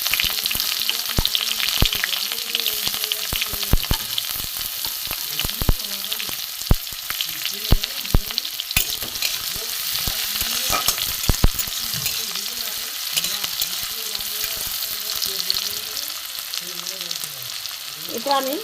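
Chopped onion frying in a pan with egg, garlic added earlier, giving a constant crackling sizzle with many quick spatula clicks and scrapes, while some faint wavering background voices sit underneath.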